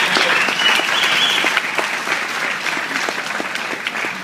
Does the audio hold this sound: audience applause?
yes